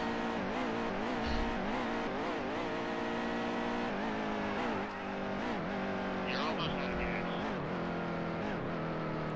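Race car engines in a racing video game at Kentucky, with a pack of cars droning and warbling as engines sputter and rise and fall, continuous and loud throughout.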